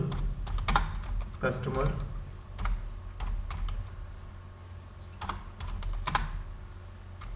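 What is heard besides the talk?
typing an SQL query on a computer keyboard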